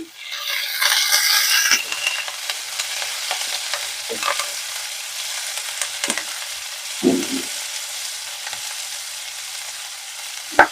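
Onions and curry leaves frying in a pan for an ivy gourd and green pea stir-fry, a loud burst of sizzle at first settling into steady crackling, with occasional spatula knocks and scrapes.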